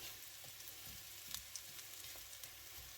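Wild mushrooms fry in butter in a pan, giving a faint, steady sizzle flecked with small pops and crackles, with no one speaking.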